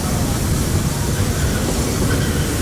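The Walt Disney World Railroad train rolls steadily on its rails, a loud continuous rumble and rattle with no distinct clacks, heard from aboard the moving car.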